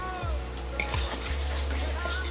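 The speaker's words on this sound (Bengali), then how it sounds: "এবার আলুগুলো দিয়ে ভালো করে কষানো হবে।" Potatoes and spices stirred and sautéed in a pan: a utensil scrapes and clinks against the metal in a few distinct strokes over a steady low sizzle, close and fairly loud.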